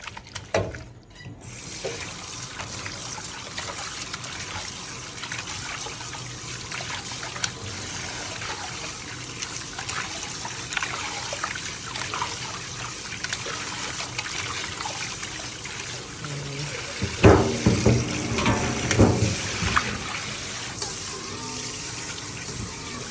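Tap water runs steadily into a sink while raw pork is washed by hand, a close, continuous stream with louder splashes and sloshing toward the end.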